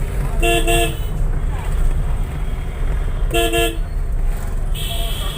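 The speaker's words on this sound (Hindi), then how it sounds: "इतना हॉर्न देंगे तो भी लोग इसी तरह से चलेंगे जिस तरह से वो चल रहे हैं" Car horns honk in busy night-time market traffic on a rough, rain-damaged road, with a double toot, a pause, another double toot and a last short honk over steady engine and road noise.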